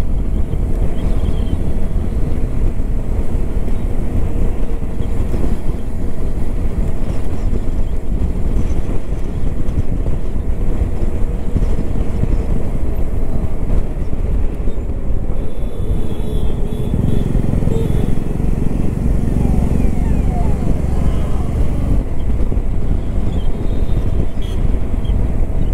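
Hero Xpulse 4V Pro Rally Edition motorcycle, a 2023 model, cruising on an open road with a steady, loud engine drone and heavy wind rush throughout, no talking.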